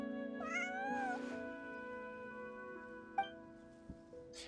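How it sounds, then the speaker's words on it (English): A cat in the Genshin Impact video game gives two drawn-out meows close by, then a short faint one, over a soft sustained musical background. "Meow. Meow, meow."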